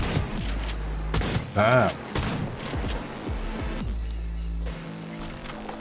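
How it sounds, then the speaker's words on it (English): Heavy shotgun blasts boom in the video game Cyberpunk 2077. A loud shot lands mid-clip amid game noise, and a man mutters briefly. "the shotgun really does some nice damage"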